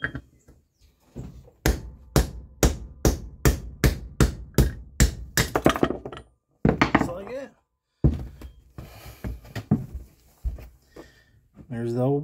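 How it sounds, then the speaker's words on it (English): A hammer taps a drift against the old tailshaft bushing of a Torqueflite transmission, still in the car, about ten sharp, evenly spaced metallic knocks in a steady run, with someone talking briefly afterward. "Let's give it a few taps and we'll see if it starts driving it out."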